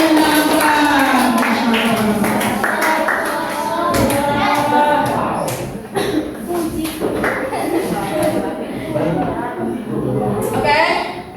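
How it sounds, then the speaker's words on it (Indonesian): An audience at a children's school event claps for the kids, a continuous patter of hands under loud talking and children's voices throughout. "Tepuk tangannya untuk adik-adiknya yang nampak."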